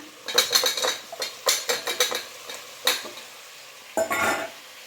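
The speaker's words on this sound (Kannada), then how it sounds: "ಈಗ ಆಲೂಗಡ್ಡೆ ಹಾಕ್ತಿದ್ದಾರೆ" Potato pieces tumble into a hot pot of frying avarekayi saru, giving a quick run of close, sharp clattering splashes and sizzle bursts, then a short pause before one last longer sizzle.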